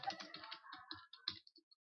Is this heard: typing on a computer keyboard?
yes